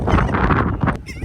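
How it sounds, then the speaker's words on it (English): A seagull at an outdoor cookout calls loudly and close, giving a short harsh squawking burst of rapid cries with no speech. "Behold, great and magnificent, my seagull."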